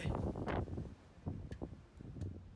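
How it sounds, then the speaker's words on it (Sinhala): Strong wind gusts through a mountain gap on the off-season Sripada (Adam's Peak) hike via Kuruwita Erathna, buffeting the microphone with a close, uneven low roar that swells and eases in irregular surges. "හුළඟ තමා හුළඟ. අපි දැන් ඉන්නේ හුළං කපල්ලේ."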